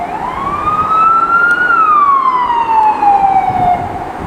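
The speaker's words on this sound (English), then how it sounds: "And why does that siren feel so ominous to me now as I look at this?" Emergency vehicle siren sweeping up and then slowly down in pitch, loud and close over a rumbling traffic background.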